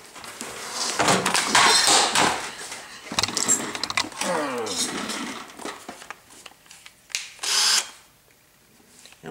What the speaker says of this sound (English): There goes my drill.